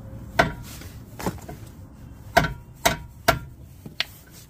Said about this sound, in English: I'm gonna use a rubber mallet, and I'm gonna hit the bottom of the wrench